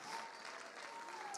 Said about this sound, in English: Somebody clap your hands and praise him.